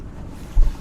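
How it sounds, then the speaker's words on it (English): Wind gusting over a choppy lake at Jordan Lake, NC, heard from a small Whaly 370 rescue boat: steady low rumble of wind and water with a brief louder buffet near the end. "There's a pretty good wind, which means the water's pretty choppy"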